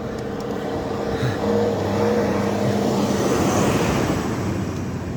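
A motorbike cruises along a wide, quiet road on a morning ride, its engine a steady, close drone with a slight swell midway, mixed with constant wind rush.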